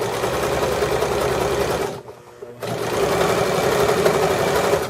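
A sewing machine stitches along the unhemmed edge of a placemat with a loud, steady mechanical whir. It pauses briefly midway, then runs again at a constant pace.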